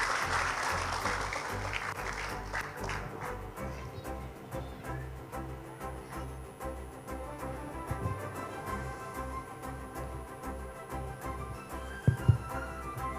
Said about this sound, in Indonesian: Kita berikan tepuk tangan untuk Pak Hengki.